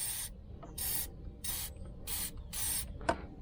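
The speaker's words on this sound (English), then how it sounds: "I don't want to spray all over yet too much, because if there are any leaks, I won't know" Anti-rust spray hisses in five short bursts, each under half a second, onto the suspension of a 1992 Mercedes 600SEL, loud and close with brief quiet gaps between sprays.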